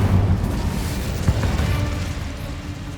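Spell explosions from Bombarda and Confringo in the Hogwarts Legacy video game, a dense rumbling roar with one sharp burst in the middle, loud and continuous with no talk.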